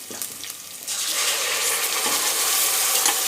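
Freshly ground masala for a fish sambar hits a hot pan and sizzles loudly, a dense steady hiss with stirring scrapes that swells after a brief quieter start, with no talking.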